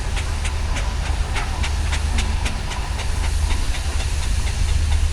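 A 1930s steam road roller at a steam rally arena lets out loud, steady steam hissing, close and continuous, with a faint rhythmic chuffing pulse beneath it.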